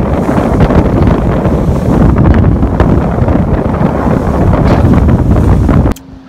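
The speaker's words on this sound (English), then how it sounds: "They're calling for like 8 miles an hour of wind, like 2 foot swell. It's blowing right now." Strong wind roars across the microphone on a fishing boat off the front side of Catalina in rough seas with a two-foot swell, a steady loud buffeting that drops away abruptly near the end.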